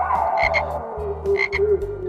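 Frogs croak in short repeated bursts, two quick pairs of rasping calls over a steady low background chorus, fairly close and clear with no voices.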